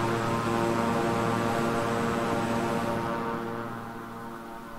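Constant turboprop drone from a simulated King Air 350i twin-engine plane in Microsoft Flight Simulator, droning steadily before gradually fading and thinning out toward the end.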